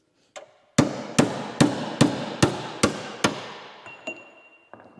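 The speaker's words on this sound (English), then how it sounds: "So I'm just gonna use this socket here and beat it out." A hammer drives a socket to beat out a broken spindle, landing seven loud, evenly spaced metallic blows that each ring briefly, followed by a couple of lighter knocks.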